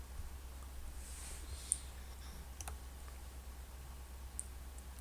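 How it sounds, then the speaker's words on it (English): A few faint, sharp computer mouse clicks spaced seconds apart over a low steady hum, quiet and close, with no speech. "you can click here"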